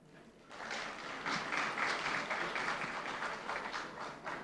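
Audience applause from a seated crowd at a memorial gathering in Ghana, a dense wash of clapping that swells in after a quiet start and holds steady and fairly distant for several seconds.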